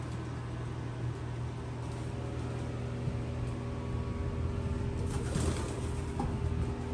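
Soft pigeon cooing over a constant low hum, with a brief rustle of wings partway through.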